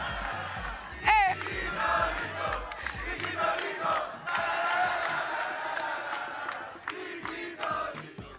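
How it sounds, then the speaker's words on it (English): A loud arena crowd roars and cheers at a VALORANT Masters Santiago esports match, a dense sustained wall of voices with whoops and a brief shout rising early, continuing steadily throughout. "the crowd's going crazy"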